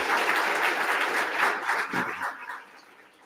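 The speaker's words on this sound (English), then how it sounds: "Please join me in one more round of applause for Lieutenant Colonel Shore" Warm, dense applause at a university leadership awards night honoring a lieutenant colonel, filling the room loudly before tapering off and fading out after a couple of seconds.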